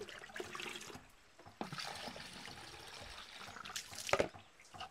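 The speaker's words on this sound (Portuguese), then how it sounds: "Enchei água diretamente aqui da caixa d'água" Water pours and trickles while filling from a water tank in a riverside Amazon setting, a faint steady splashing with a few louder gurgles and knocks.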